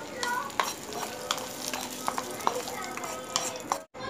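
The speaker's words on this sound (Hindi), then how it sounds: "ये तड़का मैं इसके ऊपर" Hot tempering poured over chicken Patiala in a pan, giving a steady sizzle with stirring and occasional utensil clinks throughout, fairly quiet.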